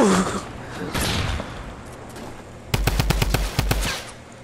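Rapid video-game gunfire rings out during a car chase, a tight burst of about eight evenly spaced shots following quieter engine and crowd-like noise, fairly close and punchy.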